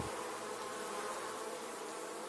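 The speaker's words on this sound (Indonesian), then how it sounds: "Di sana ada sarang lebah madu." Honey bees buzzing in a steady, dense drone with no pauses, used as a sound effect in a children's story.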